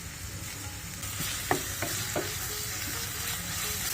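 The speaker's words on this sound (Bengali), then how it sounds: "ভালো করে মশলাগুলোকে আমি ভুনে নিচ্ছি" Spices being dry-roasted and stirred in a pan for Barishal-style khud pulao, with a steady sizzle and a few sharp scraping stirs, close and alone.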